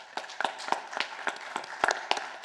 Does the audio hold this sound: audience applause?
yes